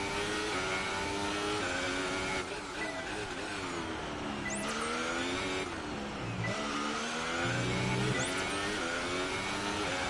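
A Formula 1 car in F1 2018 has an engine that howls and revs continuously, its pitch climbing and dropping through gear changes. The sound is loud and close, and no voices are heard.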